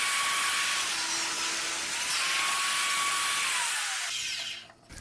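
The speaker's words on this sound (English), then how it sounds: "I'll run a scrap through the table saw to clean up the edges" A table saw cuts a scrap 2x4 to clean up its edges, giving a loud, close, continuous high whine as the blade runs through the wood, then dropping off as the cut ends.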